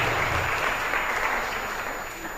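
Audience applause at a Dallas Christian 2018 stage event, steady dense clapping from a crowd filling the whole moment at even loudness, fading slightly toward the end.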